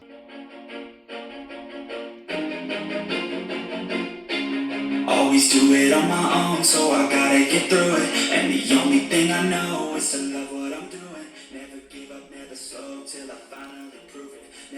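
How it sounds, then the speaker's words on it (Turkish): A pop song with sung vocals and a full band plays steadily, rising in energy partway through, heard through a small Greatnice GTS-1742 10W Bluetooth speaker. "Hemen size bir şarkı açıyorum."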